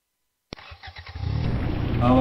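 A BMW race car in a racing video game starts up and revs, its engine rising to a loud, steady drone after a sharp opening burst, with chugging pulses building over about two seconds.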